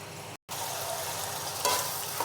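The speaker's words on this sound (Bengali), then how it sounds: "এগুলো দিয়ে ভালো করে আমি একটু কষিয়ে নেব" Spices sauté in oil in a pan before hilsa fish is added, making a continuous close frying hiss that cuts out for a split second, then returns with a brief louder stir near the end.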